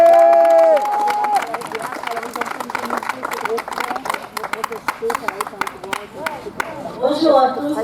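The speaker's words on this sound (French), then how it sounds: "je vous demande d'applaudir" Audience at a political meeting in the canton of Istres claps for a speaker, with sharp scattered claps and crowd murmur under a brief sustained tone at the start, swelling again toward the end.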